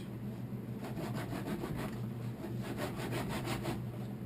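Buckskin hide being softened by sanding it with a stick fitted with small cables, giving a steady, continuous scraping rasp with a regular back-and-forth rhythm, close and fairly loud with no talking.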